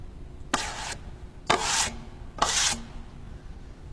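A drywall taping knife scraped clean against the edge of a mud pan loaded with pre-mixed joint compound, three quick rasping scrapes about a second apart, close and distinct with no talk.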